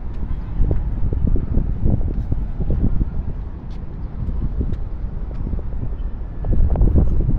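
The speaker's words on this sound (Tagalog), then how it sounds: "Ang sarap ng simoy ng hangin" A steady outdoor breeze rushes and buffets against the microphone, a continuous low roar with gusts swelling near the end, no talking over it.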